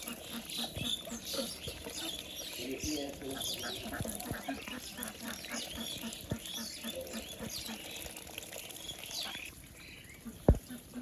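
Several ducks quack and chatter in a busy, overlapping flock, with a patter of movement and a sharp knock near the end.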